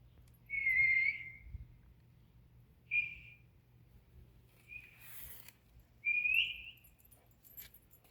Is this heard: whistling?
yes